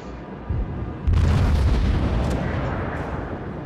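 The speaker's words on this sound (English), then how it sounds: "First broadside is way off the mark. Re-aim. Try again." A cruiser's broadside in a naval warship video game, a heavy booming volley that lands in two loud blasts about half a second apart, then a long rumbling decay.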